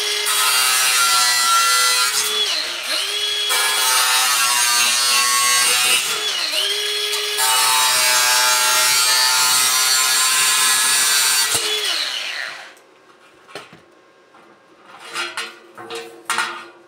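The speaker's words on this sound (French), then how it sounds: "le grillage, je vais le couper" Wire grill mesh being cut for a homemade barbecue oven, a loud continuous rasping, scraping cut lasting about twelve seconds with brief pauses, then a few faint metallic clinks and rattles as the pieces are handled.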